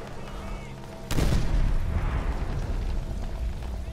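A grenade blows up in Call of Duty: World at War on a Berlin battlefield: a sudden loud blast about a second in, followed by a rumbling, crackling tail that stays loud and slowly fades.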